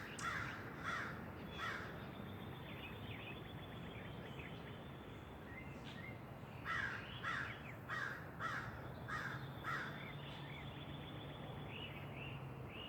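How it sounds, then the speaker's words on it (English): Crows caw loudly in repeated bursts of harsh calls, several birds trading calls with short pauses between groups, over a steady outdoor background hiss. "what sound the crows make because they're really loud and annoying"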